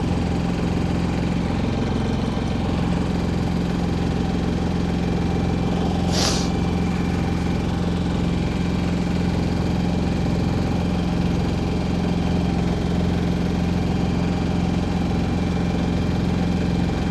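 A steady low sailboat engine idles close by at a dock for the whole stretch, a constant rumble with a brief hiss partway through.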